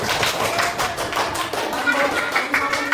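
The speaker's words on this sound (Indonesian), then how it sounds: "Boleh tepuk tangan buat masing-masing kelompok." A class of children claps for each group in turn, a dense, steady patter of many small hands close by, filling the moment with no talk on top.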